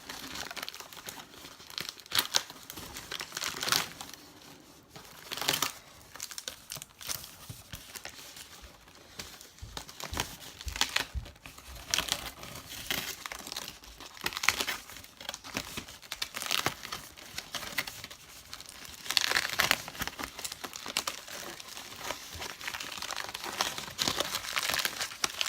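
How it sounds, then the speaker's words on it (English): Thin latex zombie skin peeled off a surface, a continuous soft crinkling and tearing rustle, close and fairly quiet, with uneven bursts over nearly half a minute. "And then when we peel it off, the underside will be textured."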